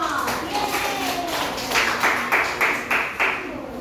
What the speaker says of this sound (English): The round of applause for group 1.